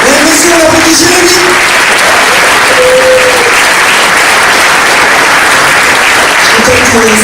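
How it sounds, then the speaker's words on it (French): A steady wash of audience applause at a French comedy stage show, loud and continuous, with a voice briefly heard over the clapping. "Mesdames et messieurs, on applaudit Jérémy."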